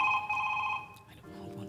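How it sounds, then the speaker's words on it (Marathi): A mobile phone rings loudly at the start with a steady electronic trill, then stops after about a second, and faint room sounds follow. "तुझा फोन वाजतोय, उठ."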